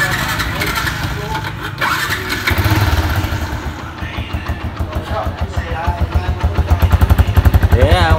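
A Yamaha Exciter 135 motorcycle turns over and settles into a rhythmic, pulsing idle, close and loud, while people talk nearby.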